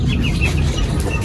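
Chickens cluck steadily while feeding, a close, continuous mix of soft clucks and low scratching with no talking.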